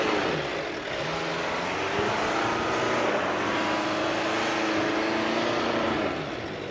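MG Majestor SUV climbing off-road in 4x4 auto mode, its engine note steady and moderately loud with a slight rising rev, heard alone without talk.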